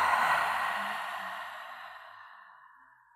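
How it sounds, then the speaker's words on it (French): During a slow yoga breathing exercise, a person lets out one long, soft exhale through the mouth, a breathy rush that gradually fades over about three seconds with no speech. "Expirer par la bouche si c'est confortable. Et laissez votre respiration devenir le plus lente que possible."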